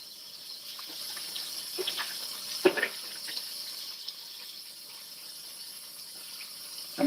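Tap water runs steadily into a kitchen sink during washing up, a soft continuous hiss with a few faint clinks and splashes along the way and a louder splash at the very end.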